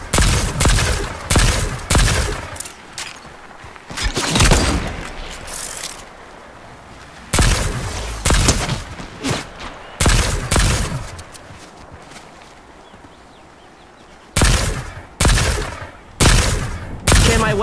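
Weapons firing in Fortnite, loud repeated bursts of sharp shots in clusters separated by short quieter gaps, some volleys rapid and some single cracks, with no talk.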